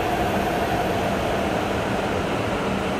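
A steady, loud rushing roar of a Tohoku Shinkansen train arriving on the opposite platform of a station fills the scene, a continuous rail hum with no voices.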